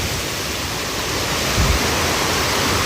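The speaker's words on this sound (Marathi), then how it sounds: "डोंगरातून पाणी वगैरे येत आहे एकदम झुळझुळ झुळझुळ एकदम झरे" A hill stream near the Barondadevi temple in Virar rushes downhill in a steady, even hiss of flowing water that stays constant throughout, with no voices.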